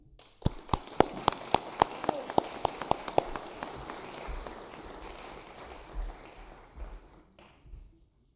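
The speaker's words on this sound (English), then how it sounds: "I think that we can applaud him." Applause at an awards ceremony for a young finance and insurance researcher, opening with a few sharp, separate claps that swell into a steady wash of clapping before thinning out toward the end.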